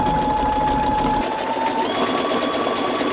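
A sewing machine runs steadily while stitching fabric, giving a close, continuous, rapid mechanical whir that keeps an even pace, with a slight shift in tone partway through.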